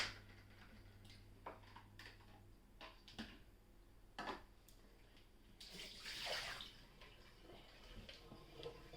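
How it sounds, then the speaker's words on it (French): Cold tap water running over a freshly cooked egg in a kitchen sink: a soft, uneven splash and trickle with scattered drips and clunks, swelling louder near the end, close and fairly quiet. "Je vais le mettre sous l'eau froide pour un petit peu le refroidir."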